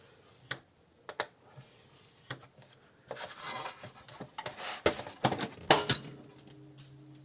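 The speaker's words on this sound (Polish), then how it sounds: "I teraz otwieram taką kartkę i biguję ją" Card paper being scored along a fold line with a tool, short scraping and rubbing strokes up close, a few sharp taps, quiet and intermittent with no talking.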